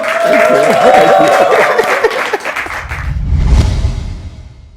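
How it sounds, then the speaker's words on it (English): A studio audience applauds on a comedy news show, the clapping rising over a musical sting with a swooshing transition partway through, loud and close before tapering off. "Please, one more time, a round of applause for Obi."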